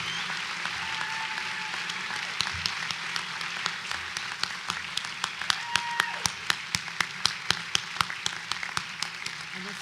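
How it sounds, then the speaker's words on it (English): Graduation ceremony applause at Gavilan College in 2017, a soft background of crowd clapping with a run of sharper, evenly spaced claps standing out near the front toward the end. "Please give Cecilia Ponzini a warm round of applause."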